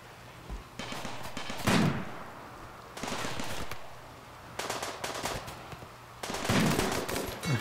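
Gunfire in RimWorld: several bursts of rapid shots, each lasting under a second, separated by short quiet gaps, moderately loud, with a faint voice briefly in between.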